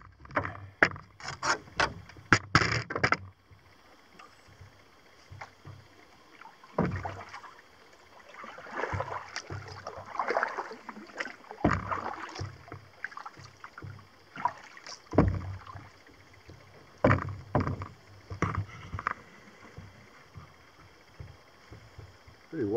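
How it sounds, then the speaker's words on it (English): A double paddle strokes a kayak along the rocky west shore of Clear Lake, with close, irregular splashes and knocks and quiet gaps between strokes. "I think I'm going to go back to my double paddle"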